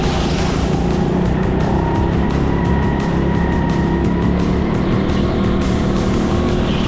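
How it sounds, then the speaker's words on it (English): Go-karts roar off at a race start at TeamSport Leicester, a loud, dense wall of buzzing engines blending together, with rhythmic pulsing as karts pass close by. "The green flag drops, it's time to race."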